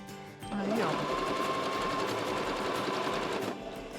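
A sewing machine runs in one steady burst of rapid stitching for about three seconds while sewing fabric for a patchwork bag, then stops.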